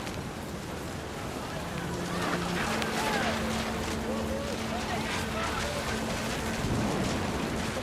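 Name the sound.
rain and thunder in video game What Remains of Edith Finch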